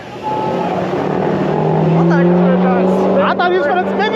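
A loud diesel truck engine roars and climbs in pitch as it revs, sustained and close, with people talking and shouting over it.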